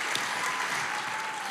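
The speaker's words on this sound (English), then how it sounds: "You can clap for that." Brief burst of full, steady clapping from the audience at a country gospel spring concert, close and continuous.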